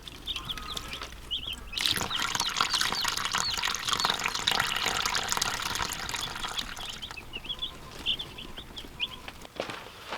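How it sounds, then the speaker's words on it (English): Water pours from a plastic milk jug into an animal water container, a steady rushing splash lasting several seconds at close range, with faint bird-like chirps in the background before and after. "Just a little milk jug we're using for water and using it to fill up their water right here."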